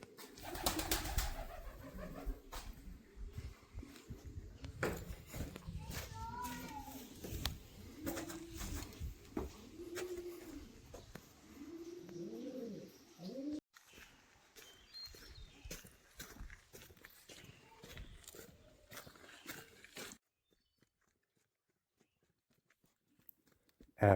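A pigeon coos in a series of soft, low, rounded calls repeated over about twenty seconds outdoors on a hiking trail, faint against rustling and wind, then quiet near the end.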